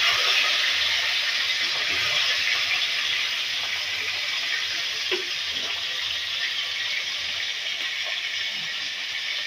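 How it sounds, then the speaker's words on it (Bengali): Two hilsa fish heads fry in hot oil with a loud, even hiss that holds steady for the whole stretch, with a few faint clinks underneath and no talking. "এই তেলটা যেহেতু গরম হয়ে গেছে, এবার এই তেলের মধ্যে মাছের মাথা দুটো দিয়ে দিচ্ছি"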